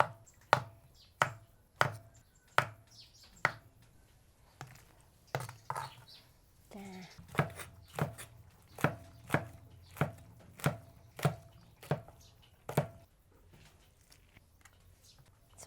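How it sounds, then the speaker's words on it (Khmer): A knife splitting mushrooms into quarters on a board for a Cambodian stuffed chicken dish, a steady run of sharp close chops at roughly half-second intervals with a brief pause midway. "ផ្សិតនេះគឺខ្ញុំពុះជា4"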